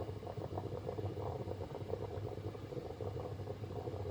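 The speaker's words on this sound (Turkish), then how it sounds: "Bu gelen ses tıngırdağın sesi." A small metal milk guard disc rattles rapidly and continuously in bubbling, boiling fresh farm milk, a steady quiet clatter with no pauses.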